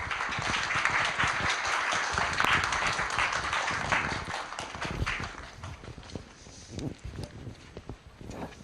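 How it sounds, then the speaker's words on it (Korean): Steady applause from a forum audience welcoming an opening speaker, dense clapping at first that thins into scattered claps toward the end. "큰 박수로 맞이해 주시기 바랍니다"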